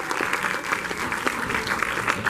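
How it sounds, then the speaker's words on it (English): Cinema audience applauding after a Gremlins Q&A with an actor, a steady, dense wash of clapping from a full house that carries evenly through the whole stretch with no talk over it. "So another round of applause for Mr. Zach Galligan."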